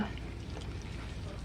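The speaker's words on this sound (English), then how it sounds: "So we're just going to put a little bit of water in here." Water poured into a pan of turkey wings for smothered wings, a steady broadband splashing wash across the whole short stretch.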